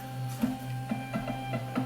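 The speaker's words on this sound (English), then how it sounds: "Print this out on the correct printer." Label printer feeding out a 4x6 shipping label, with a steady motor hum and a series of sharp mechanical clicks at uneven intervals, close up and without voices.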